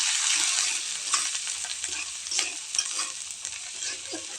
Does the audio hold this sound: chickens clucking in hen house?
no